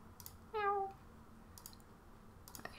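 A single short cat meow rises clearly over a quiet room, preceded and followed by soft clicking noises, with no one speaking during it.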